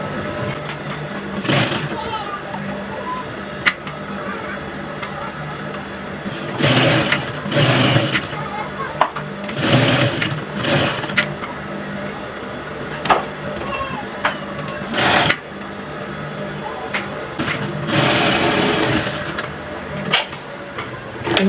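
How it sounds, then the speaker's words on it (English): Sewing machine stitching fabric along a half-inch marked line on a princess-dart bustier gown, in repeated bursts of rapid mechanical whirring separated by pauses, with a person talking between and over the runs. "So I will sew along the ½ inch."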